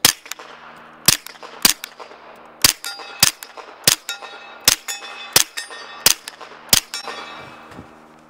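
A suppressed Sig P320 pistol fires supersonic 115 grain ammunition with a wet suppressor, about ten sharp, loud shots at a steady pace, each followed by a ringing metallic clang from a steel target.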